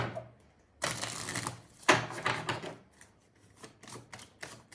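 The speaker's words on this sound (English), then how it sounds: "I like to shuffle and get one." Tarot cards shuffled by hand, a few quick crisp riffling bursts separated by short pauses, close and fairly soft, with no talking.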